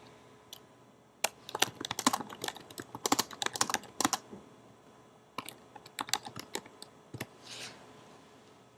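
Typing on a computer keyboard in bursts of quick, close key clicks, pausing around the middle and ending with a softer flurry; no one speaks.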